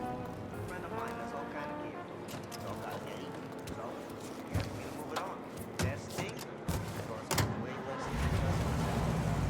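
Vintage car engine idling and running in the Mafia Definitive Edition game, a steady low rumble beneath dialogue, with occasional sharp clatters and knocks and a louder low-end surge near the end.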